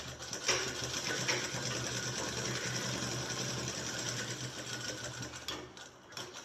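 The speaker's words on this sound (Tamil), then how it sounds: "இந்த சைடு ஒரு ப்ரெஷர் ஃபுட்டு அளவு விட்டு தைக்கிறோம்." A sewing machine stitches a shirt collar in a fast, steady mechanical whir with rhythmic needle clatter, running continuously before slowing near the end.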